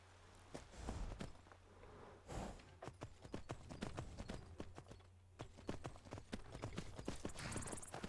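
Hooves clip-clop steadily at a walking pace as a horse moves along in Skyrim, the sharp, evenly spaced hoof strikes carrying on throughout over a faint, quiet game background.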